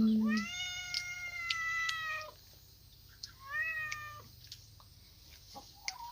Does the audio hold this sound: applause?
no